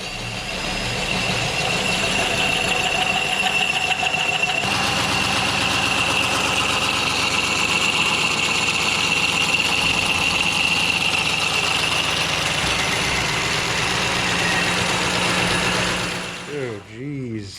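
Tube notcher cutting a long notch of about 7 inches in a roll cage tube for a Formula Supra, a steady loud machine whine and grinding drone holding for most of the stretch before stopping near the end.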